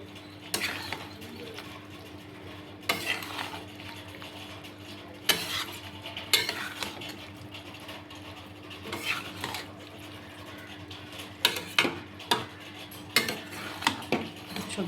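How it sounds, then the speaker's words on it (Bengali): Mixed vegetables stirred with garam masala powder and ghee in a pan, with intermittent spoon clinks and scrapes against the metal over a low hum, pigeons cooing faintly in the background. "গরম মশলা গুঁড়ো ঘিয়ের সাথে সবজিটাকে ভালো করে একটু মিশিয়ে নেব।"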